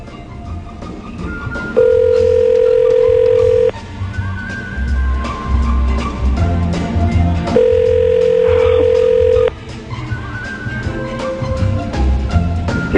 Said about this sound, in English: He's not going to answer the phone. The fourth ring of death.